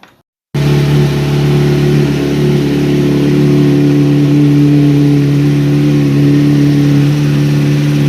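Motorcycle fitted with a full-system Akrapovic exhaust, its engine starting after a brief silence and running loud and close with a steady, deep throbbing drone and slight swells in revs throughout.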